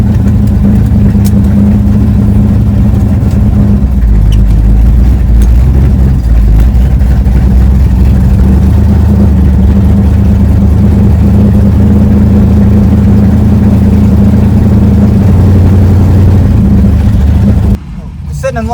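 A 1968 Dodge Dart drag car with open headers and slicks waits at the track, its engine running with a deep, loud rumble that surges in revs and settles to idle. Speech is heard over it before a sudden cut near the end.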